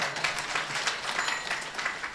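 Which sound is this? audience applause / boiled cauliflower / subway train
audience applause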